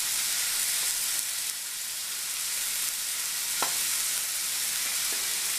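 A pork tenderloin sears in a hot pan with a steady, close sizzle and faint crackles. One sharper pop stands out near the end.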